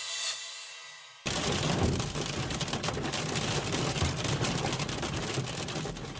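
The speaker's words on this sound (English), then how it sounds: "That's golf ball-sized hail pouring down on drivers' cars in Fort Stockton, Texas." Golf ball-sized hail pours down on cars in Fort Stockton, Texas: after a short, quieter start, a dense, loud, unbroken clatter and roar fills the rest of the clip.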